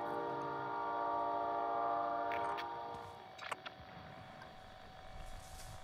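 Train in the video game Call of Duty Warzone: a steady, fairly loud mechanical drone with sustained horn-like tones for the first few seconds, fading into quieter rumble, a couple of sharp clanks near the middle.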